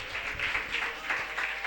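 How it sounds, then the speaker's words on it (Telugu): A congregation clapping along during church worship at a Pentecost celebration, a rhythmic series of hand claps at a moderate level over a low background hum. "చప్పట్లు కొడుతూ ప్రభువా"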